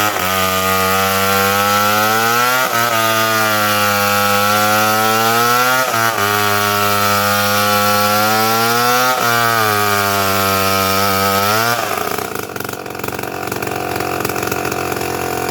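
A chainsaw trims a big tree during felling work, its engine roaring loud and close in long steady pulls with brief dips between cuts, then shifting to a rougher, lower idle near the end.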